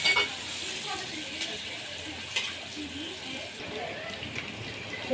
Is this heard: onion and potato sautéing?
yes